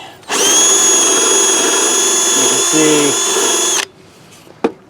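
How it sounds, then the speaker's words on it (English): Wire wheel on a power tool grinds rust off a Craftsman push mower, a loud steady high-pitched whine running for about three and a half seconds before cutting off, with a brief voice under it and a sharp knock near the end. "It's just got a lot of rust on it and stuff. You can see there. So I'm going to try just hit it with the wire wheel real quick."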